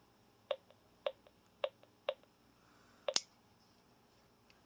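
A Spirit Box ghost-hunting device clicking: crisp, evenly spaced clicks about half a second apart, close and fairly quiet. A louder double click comes near the end.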